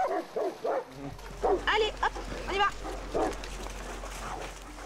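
Saint Bernard puppies at a Swiss monastery yip, whimper and give small barks in a string of short, close bursts over a low steady hum, with a few pauses between calls.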